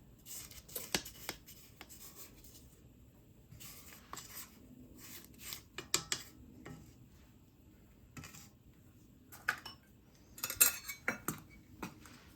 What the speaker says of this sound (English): So let me scrape the sides.